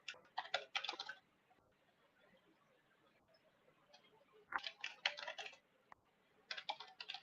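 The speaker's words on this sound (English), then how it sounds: "I like the sound of the keyboard" Quiet computer keyboard typing in bursts of rapid clicks, a flurry at the start, a pause with faint room noise, then two more clattering runs of keystrokes, close and soft.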